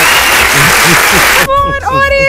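A studio audience claps in a dense burst for about a second and a half, then it cuts off and a voice speaks.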